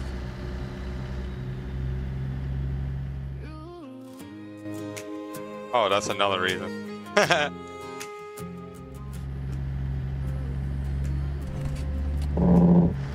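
Truck engine in American Truck Simulator, a Peterbilt 362, with a low droning hum that drops away midway, then returns and swells near the end, while someone talks over it.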